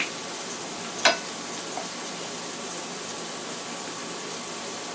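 Garlic paste going into a hot frying pan of onions for salmon stew gives a steady, even sizzle throughout, with one sharp clink early on and no talking.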